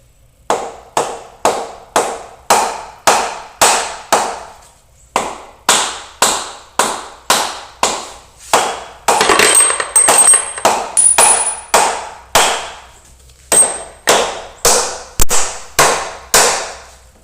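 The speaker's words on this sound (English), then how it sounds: "I'm using a rubber mallet." A rubber mallet pounds on a big-block engine head during teardown, giving a long run of sharp, evenly spaced thuds. A brief flurry of rapid blows comes midway before the steady strikes resume, with no talking.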